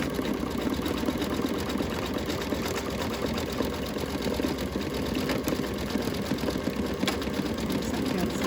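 A machine-embroidery sewing machine with a large hoop stitches a planner cover, running in a steady, dense mechanical chatter close up for the whole stretch without pause.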